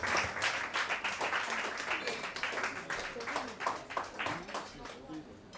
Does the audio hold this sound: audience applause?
yes